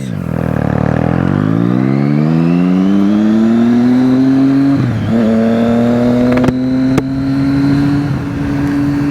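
A Triumph Street Triple motorcycle engine on a ride, a loud, steady drone that climbs in pitch as it accelerates, dips briefly midway, then holds a high, even whine.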